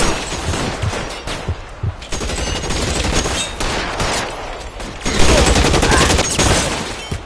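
Rapid bursts of gunfire crackle almost without pause in the L.A. Noire video game, loud and close, with dense volleys swelling toward the end.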